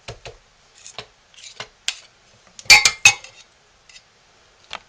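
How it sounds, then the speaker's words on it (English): A metal spoon being scraped and tapped clean against a container while making goat's milk soap, a few soft scrapes followed by a louder cluster of sharp clinks, close up, then a last light tap. "Cleaning off our spoon."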